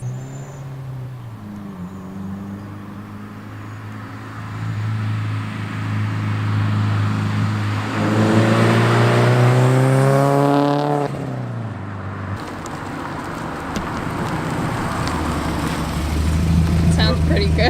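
Subaru WRX with an Invidia aftermarket exhaust idling with a deep burble, then revving hard in a loud rising sweep before dropping back to idle, with voices talking around it.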